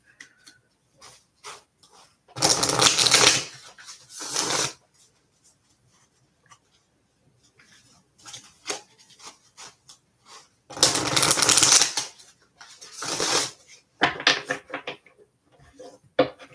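Tarot cards cut and shuffled during a live one-question reading, coming as two loud bursts of riffling and shuffling with quieter handling and tapping of the deck in between.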